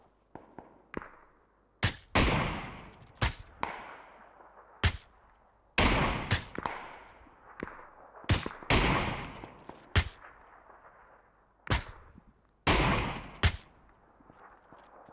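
Gunfire in PUBG on PC: loud single shots and short bursts cracking out at irregular intervals, about a dozen sharp reports each trailing off in echo, with no voices.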